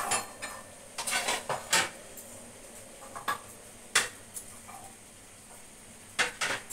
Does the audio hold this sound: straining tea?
yes